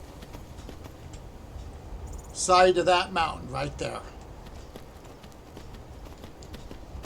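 Hooves clip-clop in a quick run as a horse carries its rider up a mountainside in Skyrim Special Edition, a short burst of gallop steps rising over steady background sound while someone talks.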